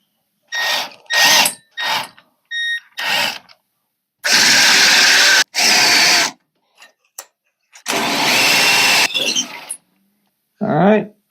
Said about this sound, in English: So that's the mark we got to drill through.